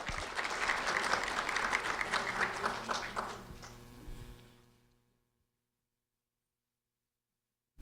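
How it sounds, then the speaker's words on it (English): Audience applause at a sheriff's office recognition ceremony, dense clapping for about four seconds that tapers off and fades into silence. "a round of applause for Matthew Rodriguez"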